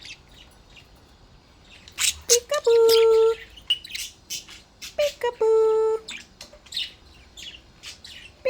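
Yellow budgie giving short sharp chirps and squawks close by, scattered between bursts of a person's playful talking, with several held tonal notes mixed in.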